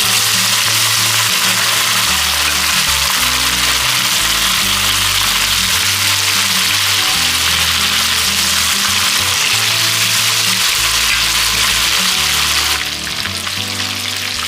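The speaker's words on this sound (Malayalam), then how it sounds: "മീൻ കുറേശ്ശെയായിട്ട് എണ്ണയിലേക്ക് ഇടുകയാണ്" Pieces of fish fry in hot oil in a small wok for fish pickle, making a loud, continuous close-up sizzle that eases slightly near the end.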